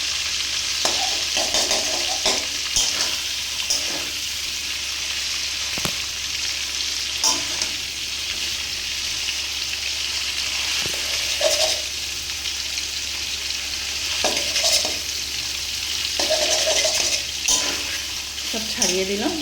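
Food frying in a kadai, with pieces separated in hot oil, produces a loud continuous sizzle broken by repeated scraping and stirring strokes spread across the clip, with no voice.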